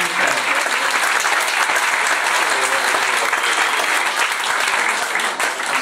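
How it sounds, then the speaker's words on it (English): Sustained, dense applause from a crowd at a singing contest final in a Blackpool hotel, cheering the contestants on stage, loud and continuous throughout, with no talk over it. "can I have a great round of applause for each and every one of these people?"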